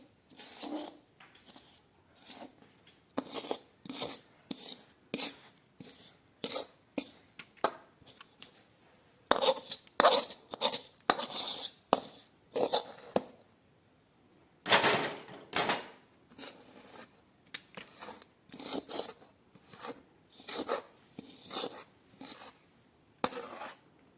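Sesame and jaggery mixture for til vadi scraped from the pan onto oiled paper, giving quick bursts of metallic scraping and tapping clicks in uneven runs, close and fairly clear with brief pauses between strokes.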